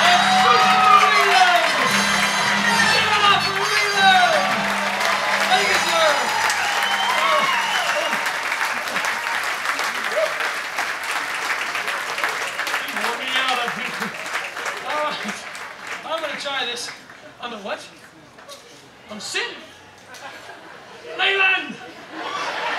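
Audience at a comedy unicycle show bursts into sustained applause with whoops, cheers and chuckles, loud at first and thinning out over time into scattered clapping, laughter and chatter.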